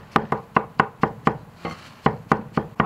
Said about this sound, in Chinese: 咱们切碎，就切细细的，反正随便切就是了，反正切碎就行。